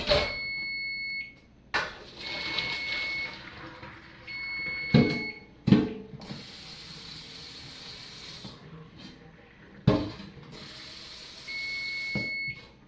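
A timer alarm sounds in short bursts of high, steady beeps between pauses. Sharp clicks and clanks are mixed in, and the whole thing is fairly quiet.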